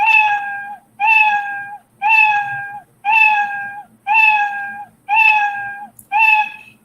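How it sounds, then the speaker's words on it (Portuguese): Scratch's built-in cat meow sound effect plays seven times in a row inside a looping program, each clear, loud meow separated by a short gap in an even rhythm, with no talking. "vai tocar o som miau, que é o som do gato"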